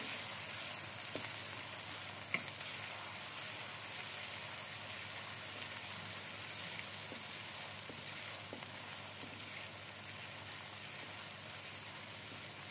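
Garlic and ginger fry in hot oil for dhaba-style chana dal, giving a steady, even sizzle throughout, with a few faint stirring clicks.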